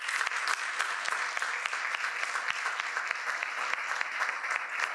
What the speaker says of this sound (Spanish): un aplauso para el padre